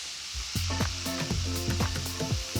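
Strips of beef sizzle and crackle in a hot pan, close up, with a steady hiss and bursts of popping spread through the short stretch.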